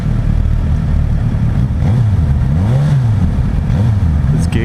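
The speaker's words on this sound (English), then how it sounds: "The exhaust, obviously it's a stock exhaust, but it sounds really good." A 2016 Suzuki GSX-S1000 motorcycle with its stock exhaust idles with a deep, steady rumble, its pitch rising and falling in a few gentle revs.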